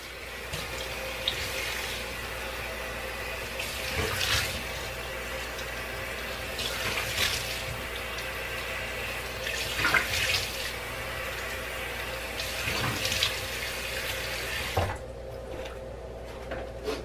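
Water runs steadily from a bathroom tap while a face is rinsed off during a skincare routine, a continuous close splashing rush with a few louder surges, ending with a slight change in the flow, no voices.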